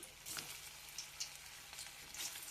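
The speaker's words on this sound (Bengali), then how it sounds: "তো আমি সবগুলো একইভাবে ভেজে নেব আবারও আমি ওর মধ্যে ছেড়ে দিলাম" Soybean dumplings fry in oil with a faint, continuous sizzle and scattered soft crackles and pops, quiet and close, with no voices.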